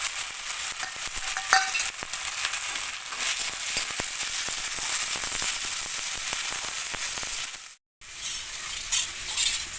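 Chopped tomato frying with ginger paste in a pan, a steady broad sizzle with scattered clicks of stirring, cutting out briefly near the end before resuming, no voices.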